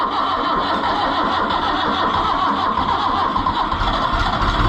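A cold Oliver 1365 tractor engine catches and runs, a loud, close, rough diesel-like chugging that holds steady throughout without any voices.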